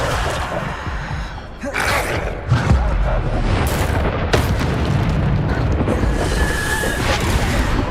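Bombarda blasting spell explosions in Hogwarts Legacy, several sharp booming blasts with crackling debris amid combat noise, loud and close, a voice shouting briefly among them.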